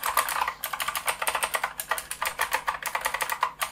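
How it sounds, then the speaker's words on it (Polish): Rapid, crisp clicking of Blue mechanical keyboard switches on a Liocat KX 365 CM, a steady flurry of keystrokes close up, loud and continuous with no talking. "Chcecie pewnie posłuchać, jak te przełączniki Blue tutaj pracują."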